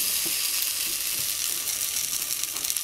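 Food just placed in a pan on the stove of an off-grid cabin in winter, giving a steady, close, broadband sizzle with faint clicks and ticks throughout and no talking.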